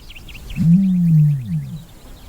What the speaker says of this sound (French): Les premiers chasseurs européens ont souvent pris ce bruit pour le rugissement d'un lion.